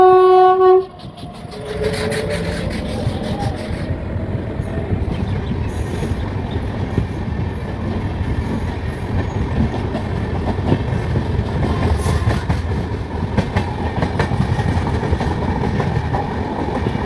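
The 22504 Kanyakumari–Dibrugarh Vivek Superfast Express sounds a short loud horn, then rumbles past close by with steady clickety-clack of wheels and occasional squeals for many seconds.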